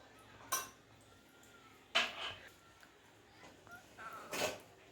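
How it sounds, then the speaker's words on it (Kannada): Pressure cooker being opened in a home kitchen after cooking vegetables for sambar, with a few sharp metallic clanks of lid and pot spaced over several seconds against quiet room background. "ಕುಕ್ಕರ್ ಓಪನ್ ಮಾಡ್ತಿದ್ದಾರೆ"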